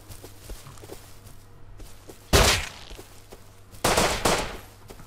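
Two loud explosive blasts in the survival video game Rust, one near 2.3 seconds and another near 3.9 seconds, each a sharp broadband burst with a short decaying tail over a quiet background hum.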